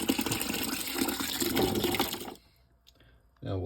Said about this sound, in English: So now I'm just gonna fill this up with water.